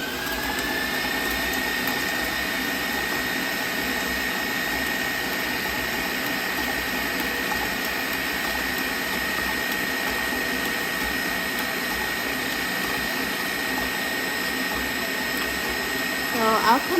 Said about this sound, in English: So we're going to turn on the mixer and get our marshmallows going.